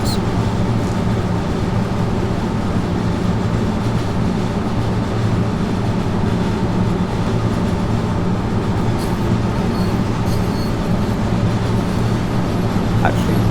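A narrow gauge train running in the Train Sim World video game, a steady loud rumbling drone of the engine and rolling wheels that continues evenly throughout.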